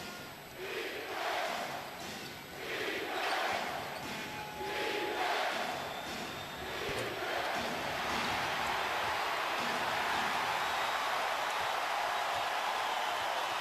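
NBA crowd noise in a basketball arena during a Thunder–Bucks game, a broad roar that swells and builds steadily louder and denser toward the end, with no clear talk on top.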